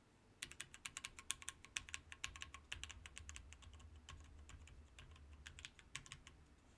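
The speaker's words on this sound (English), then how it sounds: "So most of the alpha keys are click keys and tactiles, and the num keys are actually all linear." Mechanical keyboard fitted with a mix of clicky, tactile and linear switches, typed on in a fast, uneven run of crisp clacks and clicks, close and distinct, slowing toward the end, no talk.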